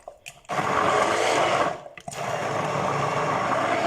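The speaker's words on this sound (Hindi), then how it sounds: "मैं इसमें हैंड बीटर चलाऊंगी।" A loud electric hand beater whirs steadily while pureeing tomatoes, pausing briefly once before starting up again with a continuous buzzing drone.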